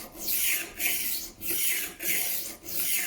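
Work Sharp rolling knife sharpener grinding a knife edge on its 600 grit disc, five steady rasping strokes with brief pauses between, close and alone.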